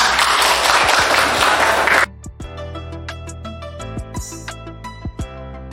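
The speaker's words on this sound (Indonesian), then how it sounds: "Tolong beri tepuk tangan untuk kelompok 2 semuanya." A classroom bursts into dense applause for a student group, then the clapping stops abruptly, leaving a humming room with a few sharp scattered claps and knocks.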